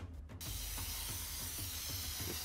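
Spray paint hisses from a can in inFAMOUS: Second Son, a loud continuous spray starting after a few quick rattling bursts and running steadily to the end.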